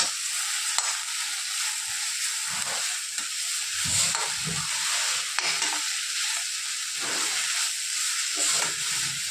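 Green leafy vegetable bhaji cooking in a pan gives a steady close sizzle and hiss, with occasional soft stirring thumps underneath.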